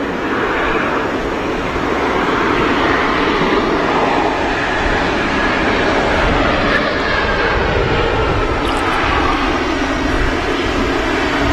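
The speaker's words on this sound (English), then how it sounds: "the Qatar 777 taxiing past us" A Qatar Airways Boeing 777 taxis at Manchester Airport, its jet engines giving a loud, steady roar that holds unbroken throughout, heard close by with no talk over it.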